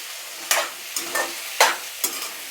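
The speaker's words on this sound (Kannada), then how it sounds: "ಟೊಮೊಟೊ ಎಲ್ಲ ನಮಗೆ ಫುಲ್ಲು ಪರ್ಫೆಕ್ಟಾಗಿ ಫುಲ್ ಬೆಂದೋಗಬೇಕು. ಅಲ್ಲಿವರೆಗೂ ಸ್ವಲ್ಪ ಲೈಟಾಗಿ ಫ್ರೈ ಮಾಡ್ಕೋಬೇಕಾಗತ್ತೆ." Onions and tomatoes fry in a pan under a soft continuous sizzle, while a spoon stirs them in five sharp scraping strokes at an uneven rhythm. No one speaks.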